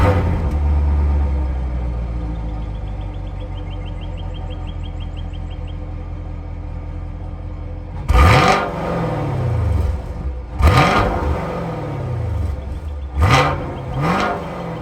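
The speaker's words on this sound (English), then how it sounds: "I'll go ahead and let you guys listen to that exhaust right now" A 2021 Chevrolet Camaro with an LT1 V8 idles with a low rumble, then revs sharply three times, each blip rising and falling close by.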